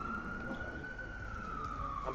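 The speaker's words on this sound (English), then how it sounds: "the siren obscured what you just said" An emergency vehicle siren passes outside, a faint, steady wailing tone that slowly drifts in pitch beneath indoor room noise, heard from a distance.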